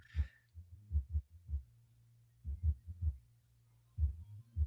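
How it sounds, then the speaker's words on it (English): Steady double-thump heartbeats from the background score of the 1981 slasher film My Bloody Valentine, a low, close throb repeating in pairs about once a second with no talk over it. "I love that little heartbeat sound effect in the background of his speech."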